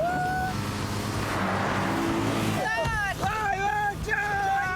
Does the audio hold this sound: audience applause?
no